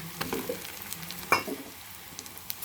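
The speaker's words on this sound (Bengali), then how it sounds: "এটাকে ভালো করে আমি ভেজে নেব, সঙ্গে মিশিয়ে নেব।" Garlic and cumin paste frying in a pan with whole garam masala gives a faint, soft sizzle broken by a few scattered stirring clicks and scrapes.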